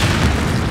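In the Battlefield video game, a close explosion booms loud and heavy, a short dense rumble filling the whole moment.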